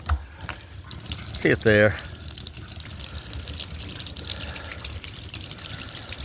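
Water flows from the outlet pipe of a submersible pump raised about 15 meters, a steady splashing rush throughout with a brief louder gush near the start; someone speaks briefly over it.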